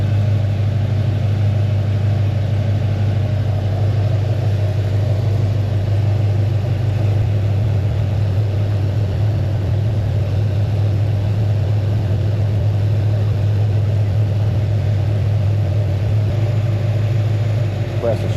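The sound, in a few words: Chevrolet C10 engine running with the AC compressor cycling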